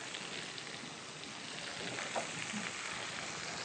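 Parsnips, carrots and shallots seasoned with salt and pepper sizzle steadily in a pan, a soft, even hiss with faint stirring and no talk.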